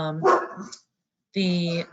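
Two loud, close dog barks sound a moment apart, with a person talking around them indoors.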